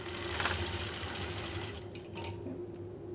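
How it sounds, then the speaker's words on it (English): Sewing machine running straight-line quilting stitches, a steady rapid mechanical whir and clatter that holds close and even, with a slight dip and some small clicks near the end. "just doing some straight line stitching"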